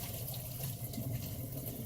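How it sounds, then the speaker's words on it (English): Water from a pot of cooked meatballs pours out through a strainer in a steady, soft, continuous rush with no pauses, heard alone at close range. "So what I'm going to do now is strain my meatball juice."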